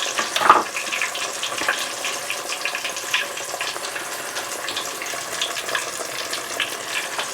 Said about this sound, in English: So we'll fry this thing up